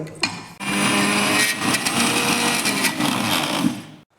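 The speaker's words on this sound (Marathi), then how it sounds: "आपण मिक्सर फिरवायचा अगदी अर्धा मिनिट फिरवून घ्यायचा" A mixer grinder whirs for a few seconds as it blends wheat flour with jaggery for laddus, a loud, continuous motor drone that starts abruptly and cuts off at the end.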